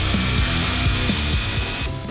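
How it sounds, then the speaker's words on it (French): A power drill bores into a LEGO figure, a close, steady whirring grind with repeated rough scraping strokes as the bit bites, ending abruptly. "J'ai percé celle-là avec une perceuse."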